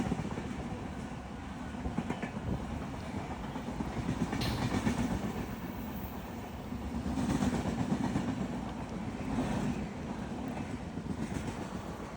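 A train rolls past, its heavy rumble and rhythmic wheel clatter rising and falling as the cars go by, fairly loud and steady with no talking.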